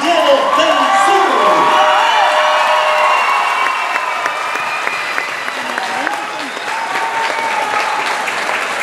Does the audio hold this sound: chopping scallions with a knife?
no